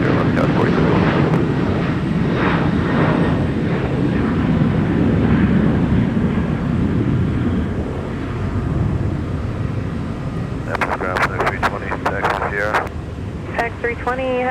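A FedEx A300 airliner taxiing at Minneapolis–St. Paul Airport, a loud, sustained jet engine rumble and whine that fades slightly toward the end, with radio chatter and a voice talking over it.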